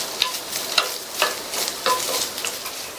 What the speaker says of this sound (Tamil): தேங்காய் துண்டுகள் நல்ல பொன்னிறமா வறுபட்டுருச்சு.